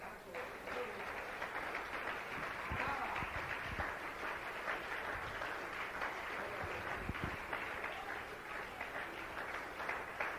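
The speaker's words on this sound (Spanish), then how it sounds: "Dele ejercicio a sus manos con un aplauso al Señor." A church congregation claps continuously, a dense wash of applause heard from within the room, steady throughout with a few sharper claps standing out.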